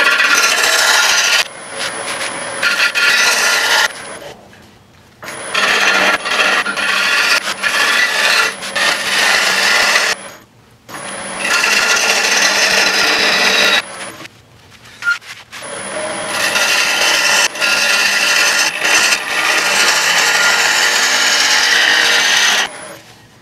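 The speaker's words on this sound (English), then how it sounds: "Let's go ahead and just get this outside roughed up a little bit more." Hackberry wood bowl being rough turned on a lathe, its outside cut in long continuous scraping, rasping bursts with a steady high whine, separated by brief pauses, loud and close with no talking.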